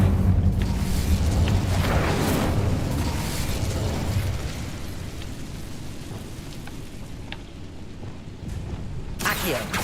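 An Incendio fire spell cast in Hogwarts Legacy bursts out as a loud, broad roaring whoosh that slowly fades into a crackling rumble, with a sharp crack near the end.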